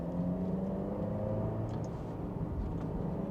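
Alfa Romeo Giulia running under load with paddle-shift changes in manual mode, a steady engine drone from inside the cabin with faint shift blips and no clearly separated rev jumps.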